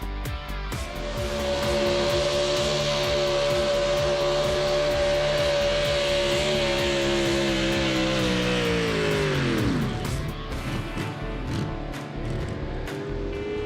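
Engines of a truck and tractor pull at the Iowa State Fair roar loud and steady, a heavy droning pitch holding for several seconds before sweeping sharply downward as the throttle drops, then settling into a rough idle.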